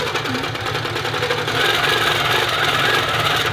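A longarm quilting machine stitches a wiggling back-and-forth line across a T-shirt quilt, with a loud, continuous, rapid mechanical hum and chatter close by that rises slightly midway.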